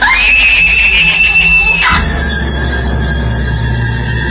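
A woman lets out a loud, sustained high-pitched scream for a dramatic story, which cuts off abruptly into a lingering low tone and background hum.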